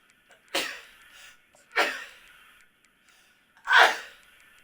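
Three sharp sneezes from a person, each a sudden loud burst with a short breathy tail, spaced about a second or two apart against near silence.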